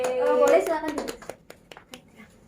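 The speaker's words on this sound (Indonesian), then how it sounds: "Tepuk tangan untuk Mbak Hevina yang sudah mewakili kelompok 1." A classroom group clapping for a student who has just presented, a short burst of hand claps that thins into a few scattered claps within about two seconds, with a brief cheer at the start.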